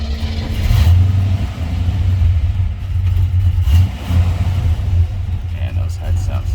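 A 1966 Chevrolet Impala with an original 327 V8 and hump heads rumbles close by, its engine swelling and dropping through several blips of revving over a deep idle, with a voice over it.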